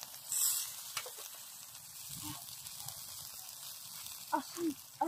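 Food sizzling and burning on a barbecue, a steady soft hiss and crackle with a few faint voices in the background.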